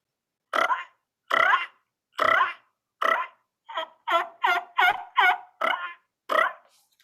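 A person imitates a wild turkey's yelp with the tongue, producing a sequence of about ten short, raspy, evenly spaced notes that come faster toward the end, loud and close with silence between them.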